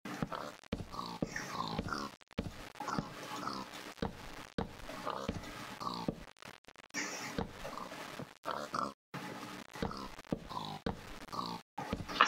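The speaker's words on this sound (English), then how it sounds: "the pigs like just snorting" Pigs snorting and grunting in Minecraft, a series of short, irregular snuffles and oinks that come in choppy bursts with brief gaps, fairly quiet.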